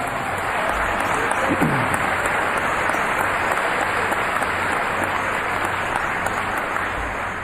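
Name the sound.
audience applause at Hall of Fame ceremony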